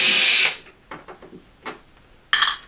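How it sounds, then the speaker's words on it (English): A DeWalt electric screwdriver whirs in two short, loud bursts while removing screws from a Marshall Valvestate S80 amplifier. Small clicks and scraping handling noises fall between the bursts. "I use this DeWitt electric screwdriver. Makes light work of it really."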